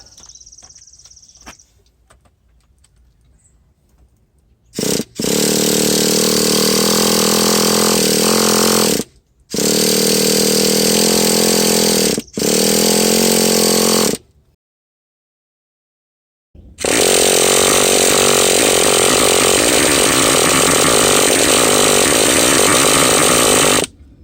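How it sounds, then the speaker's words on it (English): A nitro glow engine on an RC car is started: a faint prelude, then loud, buzzing high-revving bursts that cut out repeatedly, a short silence, and a longer sustained run. "And just prime the engine. And put on the glow igniter and see if it works."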